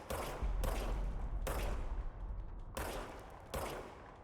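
Rapid gunfire from a player's weapon in a video game, several sustained automatic bursts broken by short gaps. The shots are close, loud and continuous, with no voices over them.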